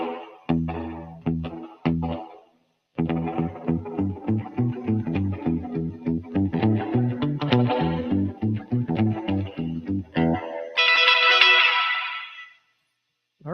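A distorted electric guitar through a Universal Audio delay pedal plays a rhythmic chugging riff with a short slapback echo on each note, ending with a bright noisy swell.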